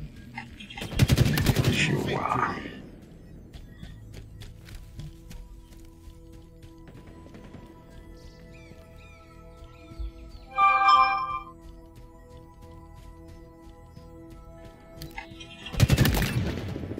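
Bursts of automatic gunfire in a Call of Duty or Halo style shooter game: a loud rattling volley at the start, a brief metallic clink midway, and another loud burst at the end, with quieter game ambience between.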